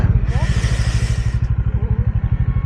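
A motorcycle idles close by with a steady, thumping engine pulse as it is brought to a stop outside a roadside cafe beside a petrol pump, with a brief voice over the engine.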